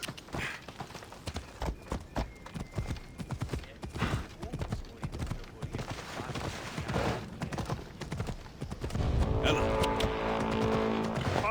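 A horse in Assassin's Creed Odyssey gallops with loud, rapid hoofbeats that drive on steadily before giving way to a denser, louder rush of game sound near the end.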